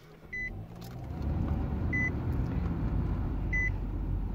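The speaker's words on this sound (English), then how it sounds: "Flip key, so on my fob, lock, unlock, panic." A 2018 Nissan Qashqai S key fob triggers three short, clear beeps about 1.6 seconds apart, heard over a steady low engine idle.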